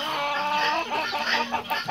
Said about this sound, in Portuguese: Ô galinha da plumagem linda.